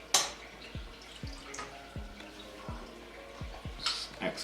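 Excess water draining from about 15 washed chicken wings, with a series of faint, close drips and small plops falling at irregular intervals over a quiet background.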